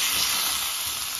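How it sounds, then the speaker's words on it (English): Butter burns and sizzles hard in a hot pan while venison backstrap cooks, producing a loud, steady, bright hiss with no breaks. "This butter is burning hard."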